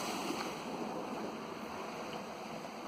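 Water pours out of a canal lock near the River Stour in a continuous rushing wash, steady and moderately distant with some wind noise, no voices.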